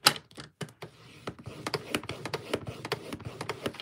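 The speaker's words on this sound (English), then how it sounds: "pull my trimmer back, and I'm going to score on the diagonal, not cut, score" Paper trimmer scoring a line across cardstock on the diagonal, a series of close dry clicks, taps and scraping ticks in an uneven rapid rhythm, without speech.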